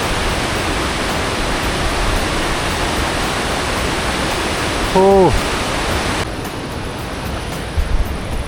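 A waterfall rushes in a loud, constant roar, with a brief tonal beep partway through.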